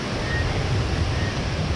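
Rushing water from a waterfall in rainy mountain terrain, a steady broadband roar with strong low rumble, constant and fairly loud with no voices.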